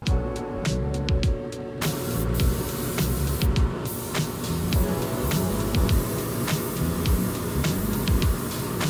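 A spray gun applies a heavy coat of 2K clear onto a rough 3D-printed prop sword, giving a steady close hiss with brief pauses and repeated short bursts.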